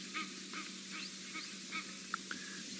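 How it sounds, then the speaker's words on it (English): Egyptian geese honk at a distance on a safari game drive, a faint series of about half a dozen short, evenly spaced calls over a steady hiss of outdoor background noise. "I think the sound of those Egyptian geese"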